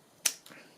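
Scissors trimming a piece of paper while shaping a symmetrical tree cutout for a craft project: one crisp, sharp snip up close, followed by a softer second cut, with no talk.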